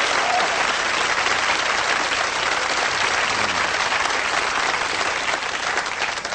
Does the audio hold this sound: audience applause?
yes